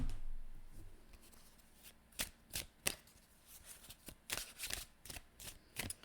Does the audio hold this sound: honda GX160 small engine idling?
no